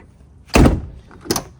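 A door on a Ford 7.3 truck is unlocked and pulled open: a loud, close latch clunk followed by a lighter second thunk about a second later, with no one talking.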